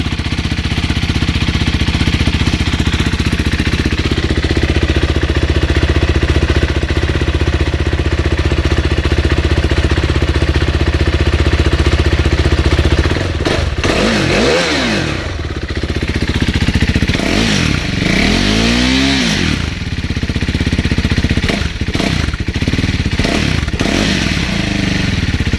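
A KTM 390 Duke single-cylinder engine runs loud and close after starting, holding a steady rattly idle with a couple of rising and falling throttle blips in the second half.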